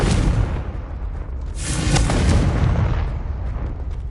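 A Confringo blasting curse goes off in Hogwarts Legacy, a deep rumbling boom that rolls and swells for several seconds with no voices over it.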